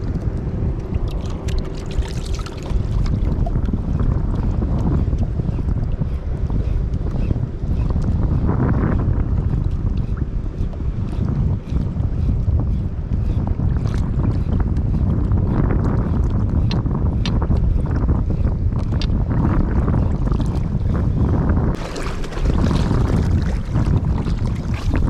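Rough, choppy sea and strong wind roar steadily around a small fishing boat, a dense continuous wash of waves and buffeting wind noise with no clear pauses.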